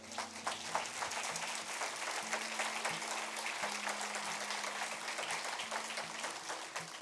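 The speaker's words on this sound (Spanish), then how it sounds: "¿Qué tal si le das un aplauso al Señor?" Church congregation applauding during a Spanish-language sermon, a steady wash of clapping at moderate level with a faint sustained musical tone underneath.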